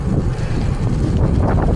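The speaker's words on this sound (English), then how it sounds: "it's bloody windy, but it's not cold" Strong gusty wind buffets the microphone during a bike ride, a loud continuous low rumble and roar with no talk.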